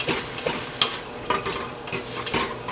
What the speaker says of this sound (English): add the quinoa and corn and saute for another 3 more minutes. So I'm just going to mix that up in this pan